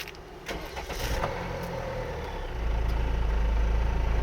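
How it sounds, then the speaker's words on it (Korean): A diesel SUV engine cranks and catches after a push-button start, then settles into a steady, low diesel idle that grows louder and holds. "전형적인 디젤 엔진음까지 만나볼 수 있었습니다"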